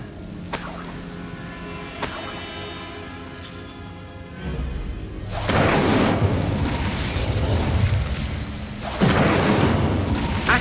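Fiery Confringo spell blasts in the game Hogwarts Legacy, a sharp crack followed after a few seconds by a sustained roaring burst of fire and rumble, loud and close with a second surge near the end.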